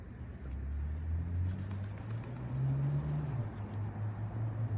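Pigeons coo in low, soft, rolling tones close by, one drawn-out call rising and falling over a faint background of passing traffic.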